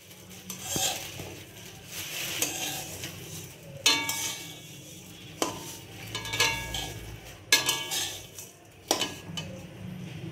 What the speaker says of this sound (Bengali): জিরা আর দিয়ে দিচ্ছি ধনে। আর এই মশলাগুলোকে আমি একটু গরম করে নেব।